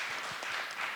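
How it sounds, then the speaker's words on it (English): Faint, distant applause from a panel event audience, a steady wash of many hands clapping at low level throughout. "again, a round of applause"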